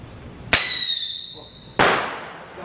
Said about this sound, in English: And that was a firework.